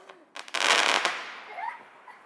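Bonfire Night fireworks rockets fired from beside a Basjoo banana tree in the UK: a loud crackling burst of launches and sizzle, then fading fizzing and faint distant pops outdoors.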